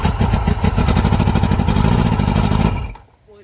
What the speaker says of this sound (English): Alright, let's give it a start up